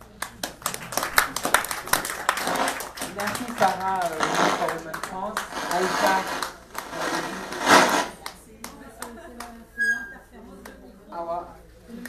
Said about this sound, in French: je pense qu'elles méritent vraiment qu'on les applaudisse